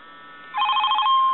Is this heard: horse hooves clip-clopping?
no